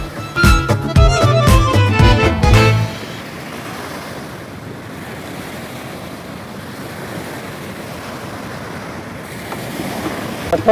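Steady wash of ocean surf and wind rumbling on, preceded by a few seconds of loud tonal music at the start.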